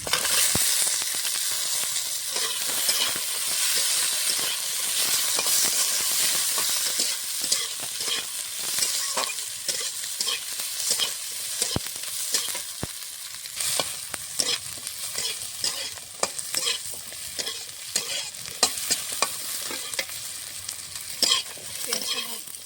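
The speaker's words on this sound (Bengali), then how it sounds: "পেঁয়াজটা হালকা করে ভেজেছি দিয়ে দেবো রসুন" Onion and garlic fry in a pan with a steady, close sizzle throughout, overlaid by frequent clicks and scrapes of a spatula stirring, with no talking.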